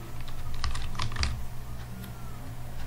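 Keys clatter on a computer keyboard as the word Total is typed into a marksheet in MS Word, a quick cluster of close, crisp clicks followed by a few sparser taps, with no talking.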